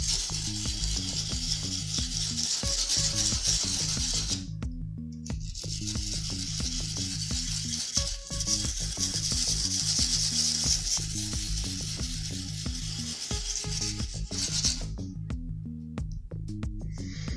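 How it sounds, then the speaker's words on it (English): A knife blade is stropped in small circles on cardboard, making repeated scraping and rubbing strokes in a steady rhythm with brief pauses, close and fairly loud. "as I'm sharpening, until it starts kind of shaving the cardboard"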